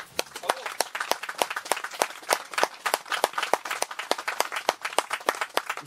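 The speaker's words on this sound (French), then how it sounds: "je pense qu'on peut l'applaudir" A small gathering of striking workers at Géométhane in Manosque clapping, with sharp individual claps in a fairly rhythmic, close, sparse pattern rather than a dense roar.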